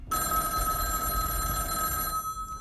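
A payphone bell in a phone booth rings steadily for about two seconds, a bright continuous metallic trill, loud and close, then stops abruptly.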